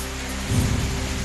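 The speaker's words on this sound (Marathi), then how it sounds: "पूर्व विदर्भात वादळी वाऱ्यासह जोरदार पावसाची हजेरी।" Heavy rain roars steadily as a gusty wind rises, swelling into a low rumbling surge partway through, with no voices.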